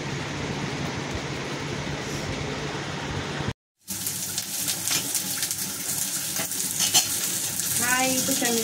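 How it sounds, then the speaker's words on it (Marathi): Fresh coconut and onion frying in a pan for a Maharashtrian prawn curry, a loud steady sizzle that breaks off briefly and then resumes with scraping stirs and rattles. "कांदा पण आपला भाजायला टाकला आहे"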